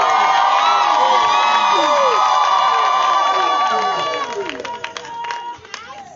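Wedding guests cheer, shout and whoop joyfully in a loud crowd with some clapping, the voices thinning into scattered claps and calls toward the end.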